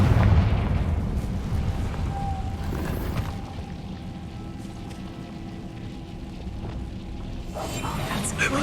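A Confringo fire spell detonating in Hogwarts Legacy, with an opening rumbling blast that decays into a sustained roaring, crackling wash of low noise and a softer swell near the end.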